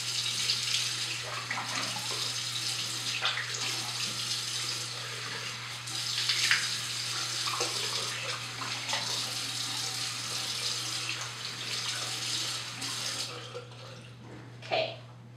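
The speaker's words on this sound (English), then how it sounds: "just rinse off your face" Tap water runs steadily into a bathroom sink as a face is rinsed after cleansing, a continuous close splashing wash with small splashes and drips near the end.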